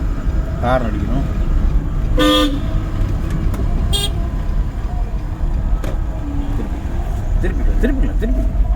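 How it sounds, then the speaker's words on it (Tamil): Car horns honk in short blasts during a driving lesson, two loud toots standing out over steady traffic noise, with voices talking underneath. "ஹார்ன் அடிக்கணும்."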